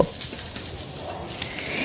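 Mixed vegetables fry together on a high flame in a pan, making a continuous close sizzle with light stirring scrapes.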